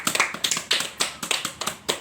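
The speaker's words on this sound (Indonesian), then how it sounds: "beri aplaus pada Paldi" Classroom applause for a student during a microteaching lesson: a short burst of quick, uneven hand claps, fairly close and lively, with no talking over it.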